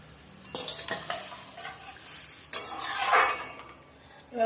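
A little water poured into a pan of cooked-down spices for a fish curry gravy hisses and sizzles sharply, with spoon clinks and stirring scrapes around it, close and fairly loud.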